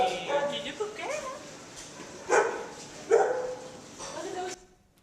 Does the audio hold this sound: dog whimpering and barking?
yes